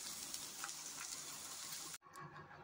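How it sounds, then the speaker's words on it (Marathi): Okra frying in oil in a pan, a steady bright sizzle that cuts off abruptly near the end, then resumes more quietly. "ही भेंडी आता तेलात चांगली फ्राय केलेली आहे"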